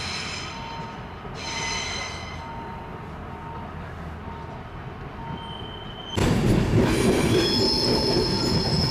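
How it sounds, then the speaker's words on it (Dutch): A Matterhorn Gotthardbahn train passes close by in the Alpine region, its wheels squealing in sustained high tones that come and go. Rolling rumble swells loudly near the end. "Wederom een treinstel van de Matterhorn Gotthardbahn."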